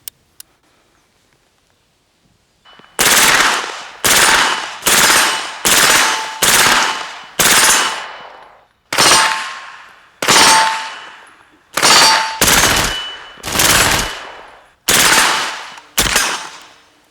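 About a dozen loud bursts of automatic fire from a suppressed short-barrel APC9K submachine gun ring out one after another in an uneven rhythm, each echoing before the next.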